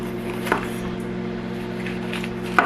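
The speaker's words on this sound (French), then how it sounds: "Et moi, je vais couper aussi un oignon." A kitchen knife slicing onion and bell pepper on a cutting board gives two isolated, fairly soft chops over a steady low background hum.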